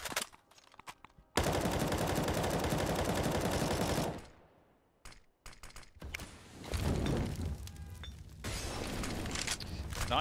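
Counter-Strike gunfire through a wall: a long sustained burst of automatic fire, then a pause and more rattling shots and match noise, with a commentator talking over it.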